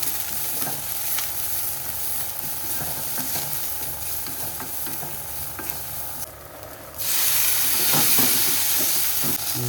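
Onion and chili frying in a pan, a steady close sizzle with scraping stirs, swelling into a louder, brighter hiss after a brief dip near the end.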